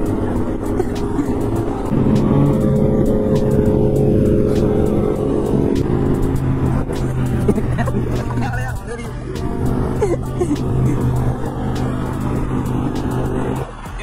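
A Kawasaki 10R motorcycle on a road with traffic gives a steady engine drone that swells as it approaches and passes, mixed with other passing vehicles, while people talk over it.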